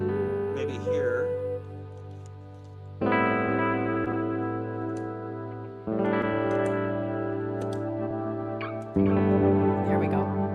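An electric guitar with an echo effect plays sustained chords in a kitchen setting, each struck block of sound ringing on with repeating trails as four chord changes unfold at a moderate level.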